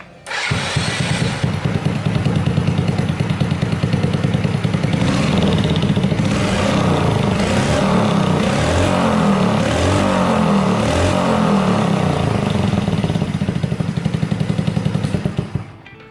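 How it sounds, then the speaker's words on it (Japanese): A small Honda Super Cub motorcycle engine idles steadily and fairly loudly at close range, with a constant low throb and light mechanical clatter, no voices. "吹かすとうるさいんでね、ちょっとエンジン回すだけにします。"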